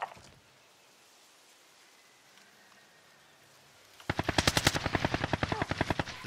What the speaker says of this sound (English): Enemy recon drone in your area.